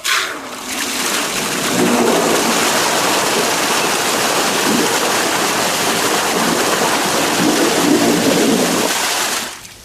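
Scott Aqua Sweep aerator churning pond water, a steady loud rushing and splashing like a small waterfall that runs unbroken for the whole stretch, with no voices over it.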